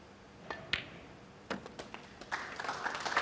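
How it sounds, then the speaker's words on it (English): Snooker crowd at the 2018 Champion of Champions, a scattered, quiet round of applause with sparse individual claps building into soft, irregular clapping near the end. "Crowd now, they're applauding."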